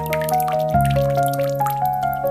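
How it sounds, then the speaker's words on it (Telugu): A crow drops a stone into a water pot, giving a short watery plop and dripping sounds set against steady background music in an animated story. "తరువాత ఇంకో రాయి వేసింది."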